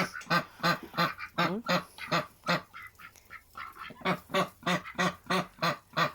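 Ducks in a farmyard give a steady run of loud, close honking quacks in quick bursts, with a brief quieter gap in the middle before the calling resumes.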